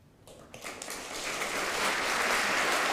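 Applause for the chair of a general election hustings starts faint and sparse, then swells into a steady, moderately loud round of clapping from the hall.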